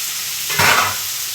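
Tomatoes sizzle and fry in a pan of oil for chole masala curry, a steady hiss that swells briefly into a louder crackling burst as they hit the pan, with no talking.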